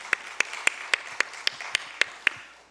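At an Easter service, a church congregation claps in a slow, even rhythm, nine sharp claps in a row, close and distinct, as a blessing for the women.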